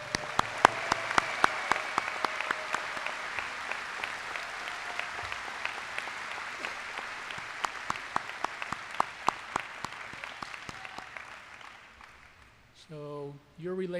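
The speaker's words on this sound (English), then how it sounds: "Let's give them another round of applause, all of them." Audience at a college commencement ceremony applauding the graduates, sustained crowd clapping with sharp individual claps that fades out, followed by a voice speaking at the end.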